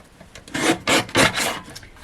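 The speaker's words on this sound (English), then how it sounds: "because it was just a tiny bit, that's why I'm using the guillotine" A paper guillotine blade slides and trims a small strip off a piece of card in a few short raspy strokes, close and fairly loud, with no talking.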